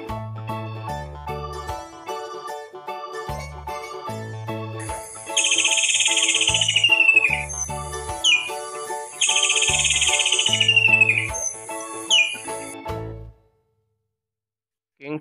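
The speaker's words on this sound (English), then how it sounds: "Blackbird." A blackbird sings in high, fluting phrases, heard in two main bursts midway, over a rhythmic musical backing that drops out near the end.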